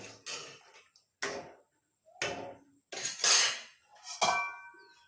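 Metal lid set onto a pot of pumpkin dal in a home kitchen: several sharp clinks and clatters spaced apart, with the metallic ring fading between them.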